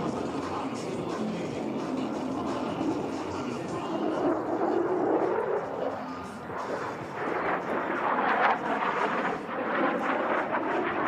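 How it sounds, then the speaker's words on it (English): F-35 Lightning II fighter jet at an air show performing aileron rolls, a sustained loud roaring jet noise that swells and shifts in pitch as it passes, with a voice commentating over it. "snap the F-35 through a series of aileron rolls to demonstrate the Lightning II's impressive roll maneuverability"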